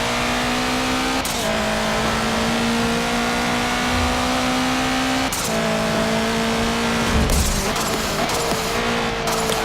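A modified 2011 Subaru WRX STI in Forza Motorsport 7 accelerates at full throttle, its engine tone rising through each gear with sharp breaks at the shifts, loud and close.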